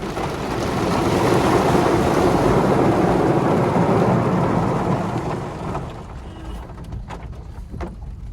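Heavy water from a mountain waterfall crashes onto a car on the road toward Sach Pass in the Pangi Valley, a loud steady rushing roar that eases and thins after about six seconds.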